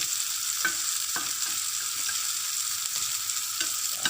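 Hotdog frying in a pan gives a steady bright sizzle throughout, with a few soft scrapes and clicks of a utensil stirring, close and even in level with no talk.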